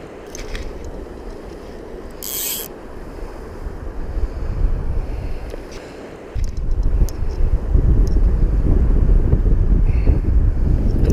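Wind gusting beside the Gibbon River in Yellowstone, a steady rushing roar with rumbling microphone buffeting that swells louder in the second half, with water noise beneath and no talk.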